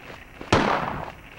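A single gunshot in Silent Hill, a sharp loud crack with a short reverberant tail that fades over about a second, set against faint game ambience.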